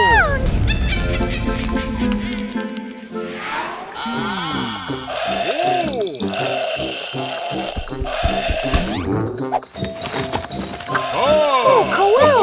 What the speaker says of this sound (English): It's your noisy robot toy!